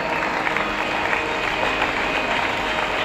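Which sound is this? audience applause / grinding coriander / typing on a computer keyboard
audience applause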